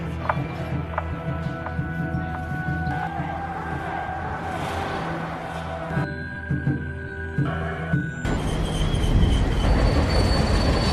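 A freight train rumbles along the rails with clanking wagons and metallic squeals, growing louder and rougher toward the end.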